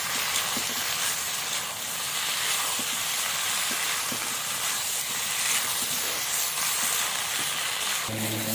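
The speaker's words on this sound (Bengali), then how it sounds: "এঁচোড় আর আলুটাকে দিয়ে ভালো করে আমি কষে নেবো আবার।" Young jackfruit and potato fry with spices in a pan for a jackfruit and shrimp dish, producing a steady broad sizzling hiss with occasional soft stirring knocks, close and uninterrupted.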